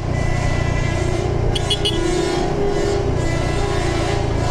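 Road traffic on a dusty highway while overtaking a bus and a truck, a loud steady engine rumble and roar close up throughout, with no talking.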